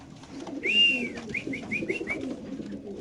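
White racer pigeons, female birds kept on a pigeon farm, give a soft low cooing while a short series of higher chirping calls rises over a quiet background.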